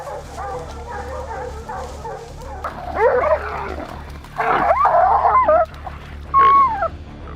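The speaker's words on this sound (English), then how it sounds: "Once in the hunting area, dogs are released to track the scent of wild boar." Hunting dogs bark and bay in bursts while tracking feral wild boar in California brush and oak woodland, a few loud close yelps rising over a fainter chorus of baying.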